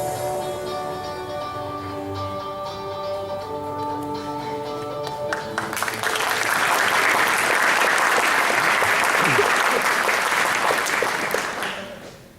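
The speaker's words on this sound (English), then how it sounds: "One more round of applause for Angie." An audience bursts into loud, sustained clapping at a company event, rising after an instrumental musical passage and holding steady for several seconds before tapering off.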